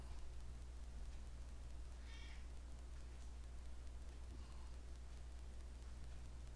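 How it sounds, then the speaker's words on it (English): A faint cat meows once, then again more softly later, against a steady hiss of background noise. "if you hear a cat meowing on here"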